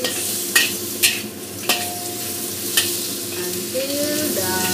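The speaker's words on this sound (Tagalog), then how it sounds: "Fry, fry, fry like this" Chopped onion fries in a hot pan with a steady, close sizzle, broken by several sharp clinks and scrapes from a utensil stirring against the metal. Nobody speaks.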